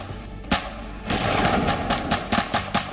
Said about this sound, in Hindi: अचानक जेल के अंदर गोलियां चलने की आवाजें आने लगी।